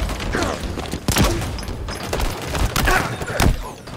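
Pistol gunfire in a Halo Infinite team slayer match, several sharp, loud shots spaced irregularly amid game noise and thumps, with a voice talking faintly underneath.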